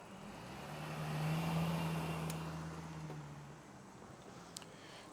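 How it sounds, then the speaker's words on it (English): A single car passes on a road outdoors, a soft engine and tyre hum swelling to a peak then fading away, fairly quiet and without talk. "let me wait for this car to go by"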